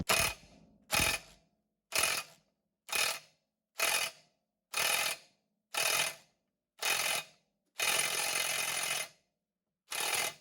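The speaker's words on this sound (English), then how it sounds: "From here, I'm going to transition to the impact gun." A pneumatic impact gun hammers at the bearing carrier retainer nut on an Alpha/Bravo outdrive lower unit in nine loud, close bursts. Each burst lasts about half a second to a second, and the last one runs longer, with short silences between.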